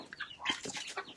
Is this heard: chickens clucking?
yes